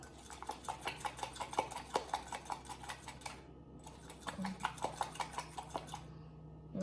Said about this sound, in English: we're going to go ahead and whisk this together really, really well